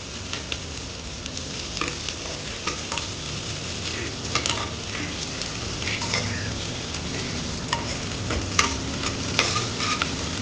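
Onions and chili frying in a pan for mushroom biryani crackle and sizzle steadily, with scattered stirring clinks and scrapes, close by and without any talk.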